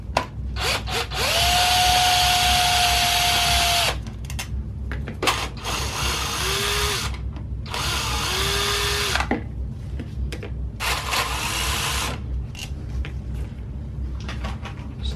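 A power tool spins out 5mm Allen bolts holding the anti-shudder valve on a BMW N47/N57 diesel intake manifold, buzzing in four close, loud bursts of a few seconds each, separated by short gaps.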